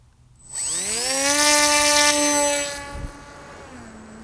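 An electric motor on an RC plane, upgraded to a bigger motor and bigger propeller, spins up into a rising whine that holds steady for about two seconds, then drops to a lower, quieter tone near the end.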